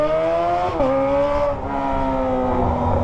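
A Kawasaki ZX25R motorcycle with a Toce exhaust revs on the road, its high-pitched four-cylinder wail rising and dipping between throttle blips, loud and close throughout.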